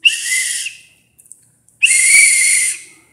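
Two loud, shrill whistle blasts, each lasting under a second, separated by a short quiet gap.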